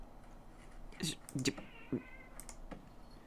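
A few short cat meows from the video game Prison Architect come in quick succession, fairly faint, with light clicking and tapping sounds around them.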